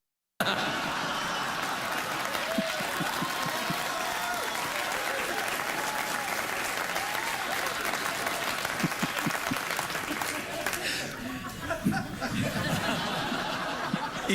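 Studio audience of a late-night talk show applauding loudly and continuously, a dense close wash of clapping mixed with some laughter and whoops, easing briefly near the end before swelling again.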